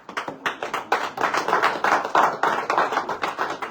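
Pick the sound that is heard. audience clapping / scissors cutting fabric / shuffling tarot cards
audience clapping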